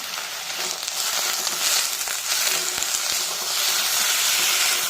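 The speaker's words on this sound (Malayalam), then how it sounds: "മുരിങ്ങയില നന്നായി വഴന്ന് വന്നിട്ടുണ്ട് അതിലേക്ക് കാൽ ടീസ്പൂണ് മുളക് പൊടി ചേർത്ത് കൊടുക്കുകയാണ്" Drumstick leaves sautéing in a pan with a pinch of chili powder for a lentil and drumstick-leaf curry, giving a steady, dense sizzle and hiss that holds close and even throughout, with no voices.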